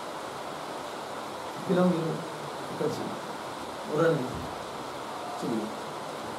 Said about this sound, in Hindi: आवाज आज कैसे इतना आ रहा है पानी का, बारिश का?